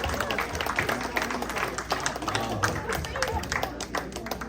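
Steady, dense applause from a gathered audience at a Father's Day event in an adult day health care center, close and continuous, with people talking and shouting over it.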